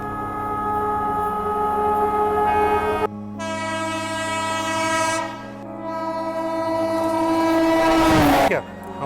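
Shreedham Express at Hazrat Nizamuddin station gives a long, loud train horn blast with strong steady harmonics, broken briefly then resuming, ending with a falling tone as it departs; no speech.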